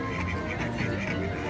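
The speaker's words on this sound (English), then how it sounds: "What do you think these ducks are saying to each other? They're really like quacking it up over here." Ducks quack repeatedly outdoors at Disneyland Resort, a busy, fairly near chorus of rhythmic calls over constant crowd and ambient noise.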